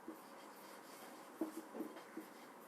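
A marker or chalk writes on a board during a maths lesson, making soft, close scratchy strokes with a few light taps, quiet and steady with no talk over it.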